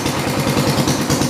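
A 1968 110 engine with a holed exhaust sputters and runs roughly after starting, a steady low rhythmic chugging pulse heard up close without voices.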